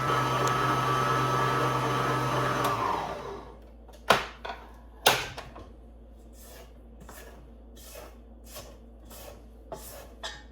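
Electric mixer beating cookie dough with sour cream and vanilla, a steady whirring drone that stops after a few seconds, followed by clattering kitchen clean-up knocks and clinks.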